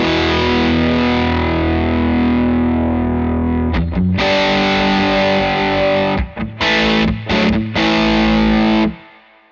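Loud, gritty chords from a Gretsch electric guitar ring through a Victory VC35 The Copper amplifier, sustained and then cut into short stabs before a final chord fades.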